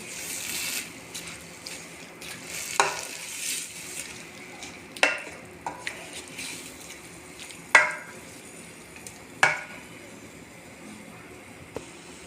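Chicken and drumstick curry with water added is stirred in a pan, with a sizzling simmer underneath and several sharp spoon knocks against the pan at irregular intervals.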